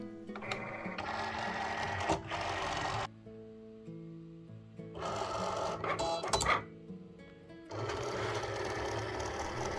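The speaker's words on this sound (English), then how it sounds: "When the cut has started and finished cutting the two top square shapes, I like to pause the cut by hitting the pause button on the machine" A Cricut cutting machine works through a sticker sheet, a steady mechanical whirring and buzzing in long runs broken by brief pauses and a few clicks, close and fairly loud.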